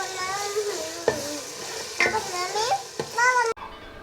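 Chili powder and spices sizzle in a pan for mutton biryani, with several stirring knocks against the pan while a voice chatters over the frying, ending abruptly.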